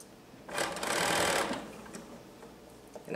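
A sewing machine stitches the seam of a pair of pants in a single steady run of about one second, fairly close and clear, with quieter room sound before and after.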